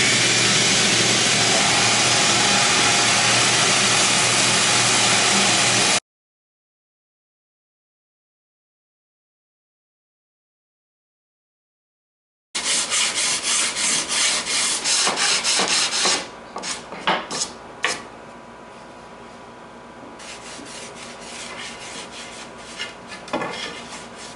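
A belt sander grinds a wooden sword blade in a loud, continuous rasping drone, stops for several seconds, then runs again with rougher, scratchy bursts before settling into a quieter hum.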